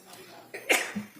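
A single short, explosive sneeze bursts out in a quiet courtroom during a murder trial, preceded by a soft intake of breath and followed by faint murmuring.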